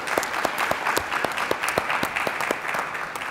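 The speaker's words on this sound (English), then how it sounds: "So let's give them a round of applause." A round of applause from a conference audience at a talk on HIV vaccine research, sustained crowd clapping with a few sharper individual claps standing out in a steady rhythm throughout.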